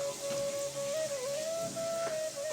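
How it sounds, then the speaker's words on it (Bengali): Onions fry in a pan with cumin, a steady soft sizzle and crackle close up, with a faint constant whistling tone running through it. "ভালোভাবে ভেজে নিচ্ছি"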